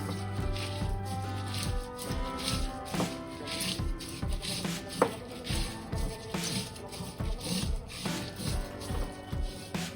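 Whole coriander, cumin and dried chillies being ground to a paste on a stone grinding slab, a steady rhythmic rubbing and scraping repeated back and forth, close and fairly loud, with no talking.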